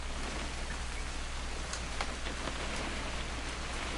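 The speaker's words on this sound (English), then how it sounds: "It's gonna rain the whole weekend, isn't it?" Steady rain falls in the video game What Remains of Edith Finch, a dense, even hiss of drops on surfaces with a few sharper drips, constant throughout and without talk.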